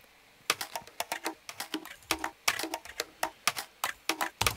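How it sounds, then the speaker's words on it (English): A cut-up drum loop layered with a percussion loop run through a frequency shifter gives a busy, clicky stream of rapid bright hits in a steady groove, close and dry with no voices. "Mixed together with a percussion loop that I put frequency shifter on"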